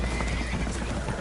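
Spooked horses neigh and stamp aboard a leaking boat in Red Dead Redemption 2, loud and constant, with shrill whinnies and hoof clatter packed into a dense, noisy mix.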